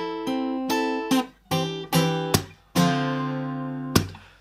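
Guitar playing a song's recurring riff, a short sequence of plucked chords and notes with clear gaps between them, close and fairly loud with no voices.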